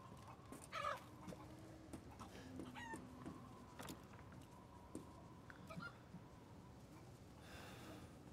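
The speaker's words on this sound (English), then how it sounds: "Hey, hold still, chicken." A chicken in the game Resident Evil Village clucks and squawks in scattered bursts, fairly close, with a louder squawk early and softer clucks following over faint background noise.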